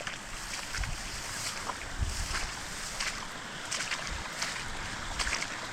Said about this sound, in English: all this water is just draining from over there